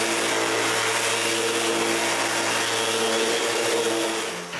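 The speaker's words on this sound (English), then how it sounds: "I finish my sanding with the linear sander." A linear sander finishes a wooden hand tool rack, giving a steady, loud electric whine with a constant tonal hum that runs unbroken and close, then dips slightly at the very end.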